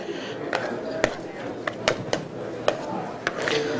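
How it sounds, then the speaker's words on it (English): A hand whisk beats mashed potatoes in a bowl by hand, the metal wires tapping and scraping the sides in irregular sharp clicks over a steady low background hum. "I've got a whisk, and we're going to whisk the potatoes together here"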